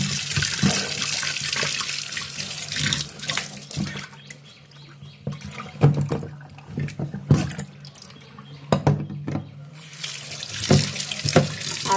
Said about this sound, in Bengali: মাছটা ধুয়ে নিচ্ছি।